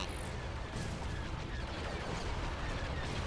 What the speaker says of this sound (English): At least these guys are firing with some of their broadside laser cannons.